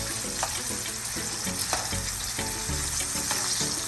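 Sea bass fillets fry in hot oil for an escovitch dish, giving a steady, loud crackling sizzle broken by brief pops and spatters. No one speaks, and the frying runs unbroken throughout.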